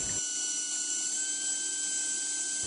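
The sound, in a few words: Rotaflex rotary cutter cutting an eggshell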